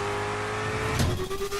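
Muscle car engines revving in a Rocket League trailer, a brief loud throaty roar that swells and surges near the end, with no one speaking.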